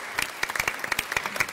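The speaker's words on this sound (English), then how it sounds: "Give her a clap." Audience applause at a school board meeting after a pole vault athlete is honored, a short burst of dense, steady clapping from a seated crowd.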